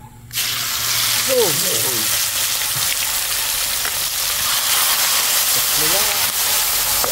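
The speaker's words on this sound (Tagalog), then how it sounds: "start na tayo magprito" Oil hissing loudly in a hot pan while frying for fish biryani, a dense, continuous sizzle that keeps up steadily for several seconds, close to the listener.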